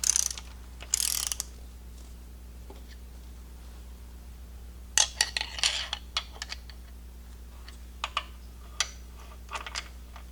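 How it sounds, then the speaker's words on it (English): A torque wrench tightens the fuel pump eccentric cam bolt on a Ford 390 engine during a rebuild, giving bursts of ratcheting clicks followed by quieter, scattered clicks over a steady low hum. "the cam calls for 45 foot-pounds of torque on this fuel pump eccentric cam bolt"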